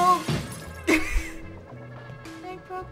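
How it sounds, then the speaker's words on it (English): Glass shattering in the puzzle game Quantum Conundrum, a short crash with bright scattered debris early on, followed by quieter game tones and a faint voice. "I broke the glass."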